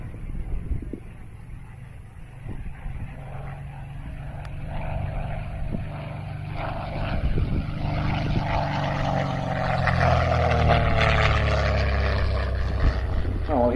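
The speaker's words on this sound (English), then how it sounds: "As Dodge flies past, take a look at the cockpit of the aeroplane" A Hawker Hurricane propeller aircraft at Old Warden flies past with a loud, steady engine drone that rises and shifts in pitch as it passes, with a voice talking over it.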